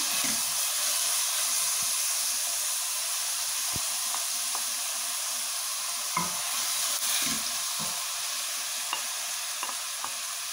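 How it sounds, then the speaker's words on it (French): Onions and bell pepper sauté in a pan with a constant loud sizzle, broken by occasional stirring scrapes and taps of a utensil. "pour faire revenir les oignons. Avec le poivron."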